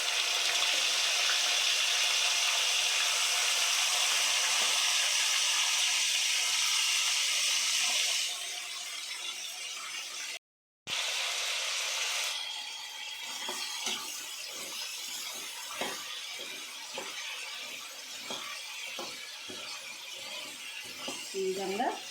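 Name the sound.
boiled elephant yam frying in oil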